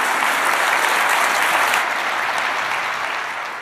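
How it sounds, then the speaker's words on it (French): Packed lecture hall at the Collège de France bursting into dense, sustained applause that stays loud and even before easing slightly at the end. "Des applaudissements nourris dans une salle pleine à craquer"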